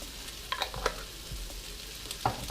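Garlic sizzles softly in a pan for vegan chili, with scattered spoon clicks and scrapes as it is stirred, fairly quiet and close with no talking.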